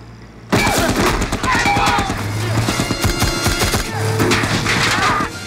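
Movie gunfire and rocket fire from an action-film battle at a minefield burst in suddenly, then keep up as loud, dense rattling volleys and booms. Low droning music and scattered voices sit underneath.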